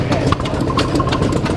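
A narrow diesel tractor idles at a heritage transport show, giving a close, loud, steady low rumble with no change in pace.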